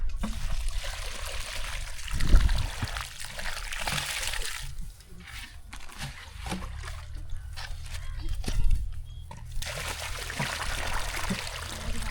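Water trickles and splashes steadily outdoors as it is poured on a field where coconut saplings are being planted, with a few louder gushes and low rumbling thumps along the way.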